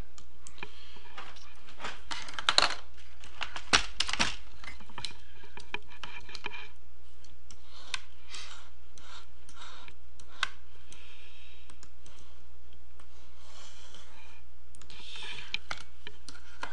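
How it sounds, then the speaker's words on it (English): Fingers type on a computer keyboard in a quiet room, producing faint, irregular clicks and taps spread over several seconds, with a couple of slightly louder keystrokes and a low steady hum underneath. "Type this since I can type a little faster than I can write with this pen."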